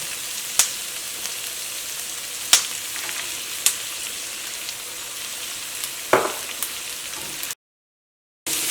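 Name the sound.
carrot, onion, ginger and chili sizzling in hot oil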